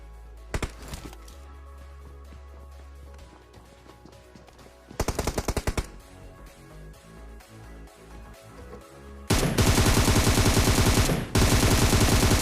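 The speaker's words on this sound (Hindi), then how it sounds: "सामने वाली बिल्डिंग में से भी भैया फायरिंग चल रही थी दबा के" Bursts of automatic gunfire from a PUBG Mobile match, with a short loud volley, sparse scattered shots, then a long dense roar of rapid fire near the end.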